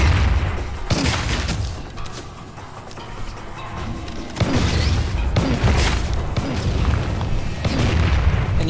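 Grenade explosions in the video game FireFall, several loud booming blasts with broad crashing bursts spread across the clip over continuous game background noise.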